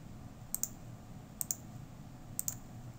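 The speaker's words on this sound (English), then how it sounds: "And then we'll just click OK." Computer mouse clicks in a software settings dialog, three quick double clicks spaced about a second apart, crisp and close over a quiet room hum with no speech.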